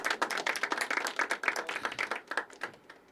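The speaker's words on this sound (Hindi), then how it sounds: "जोरदार तालियां एक बार आजाद जी के लिए" Audience applause for the poet Azad ji at a poetry open mic, a burst of many hands clapping in quick, uneven rhythm, fairly close, thinning out toward the end with no talking.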